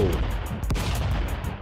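Gunfire in the stick-figure brawler Stick Fight, with several quick, punchy bangs in a rapid rhythm and one sharp, prominent shot near the middle, loud and close with no one talking.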